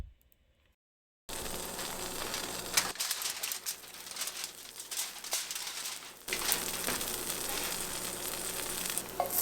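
Food sizzles loudly in a preheated cast iron pan at a campsite after a brief quiet start, a dense crackling hiss that dips for a few seconds and then swells again, with faint birdsong in the background.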